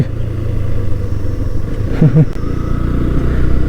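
A small-cc Honda Dream motorcycle engine runs steadily close by, a low continuous rumble with a slight rise in revs partway through.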